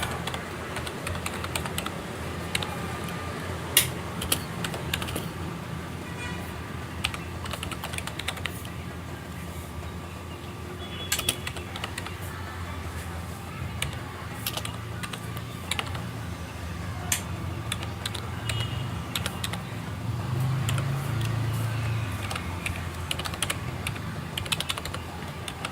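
Steady typing on a computer keyboard entering a Python command, with dense rapid keystrokes going on and on against a low room hum, close and clear, no voice.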